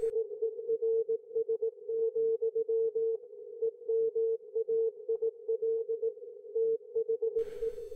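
Amateur radio transmitter signal heard on a full duplex receiver: a steady tone keyed on and off in quick irregular Morse-like bursts, clean and moderately loud, ending in a short hiss of noise.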